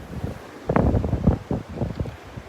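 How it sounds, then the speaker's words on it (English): Wind gusting across Vanderbilt Beach, a steady roar and buffeting against the microphone that swells midway and holds, mixed with low surf wash, close and fairly loud with no talk. "here comes the wind"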